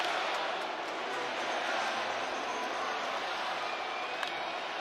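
A stadium crowd at the 2023 MLB Home Run Derby cheers in a steady, loud wash of roaring voices that holds for several seconds.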